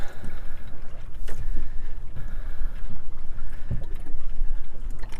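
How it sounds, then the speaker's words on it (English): Loud low rumbling wind buffets the microphone in gusts while fishing in Langstone Harbour, with water and boat sounds beneath and no speech. "So if I turn around into that wind, you might hear it on the mic."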